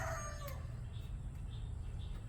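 A rooster gives a brief crowing call, trailing off within the first half second, followed by faint clucks over a steady low hum.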